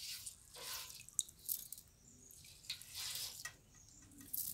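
Water poured into a bowl of salt solution used to sort paddy seed, giving soft splashing and dripping that comes and goes in short surges, close and fairly quiet.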